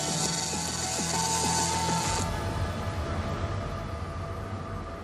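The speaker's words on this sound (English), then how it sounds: "The robot works out the most efficient route and runs the program." A factory welding robot at Tesla runs its program, giving off a steady mechanical whir with rapid ratcheting servo clicks. A high whine stops partway through, leaving a continuous machinery hum.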